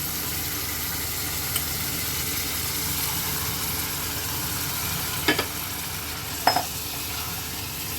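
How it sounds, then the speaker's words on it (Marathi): Drained dal being sautéed with a tomato tempering in a hot pan for Maharashtrian tikhat dal gives a steady, even sizzle and hiss throughout, broken by a couple of brief utensil clinks near the end. "डाळ टाकून आपण फोडणीबरोबर छान परतवून घेऊया"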